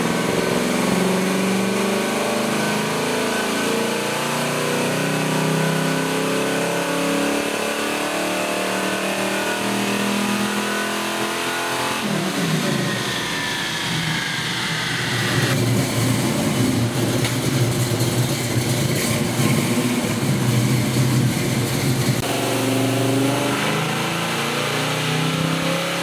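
A car strapped to a dyno at a dyno challenge event, its engine revving hard and held at high load for a long sustained pull, the tone shifting partway as it climbs through the rev range, loud and close with no talk.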